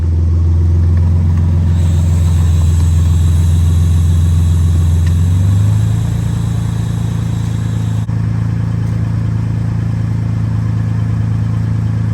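A car engine idles and revs low and steady as the vehicle is driven up onto a tire to break its bead, the rumble shifting in pitch midway, with a faint click near the end and no voices.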